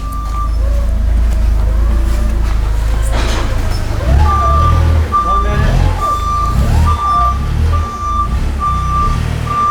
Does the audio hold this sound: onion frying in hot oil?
no